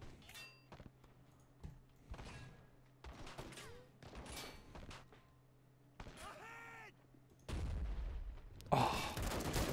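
Scattered gunshots and bursts of fire in a Call to Arms battle at a crash site, coming in bursts with gaps between them, with a louder, denser stretch of fire near the end.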